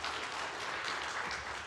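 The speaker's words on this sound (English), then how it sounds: "go ahead and clap." Church congregation clapping during a sermon, a brief, even patter of many hands at moderate volume, filling under two seconds with no talk over it.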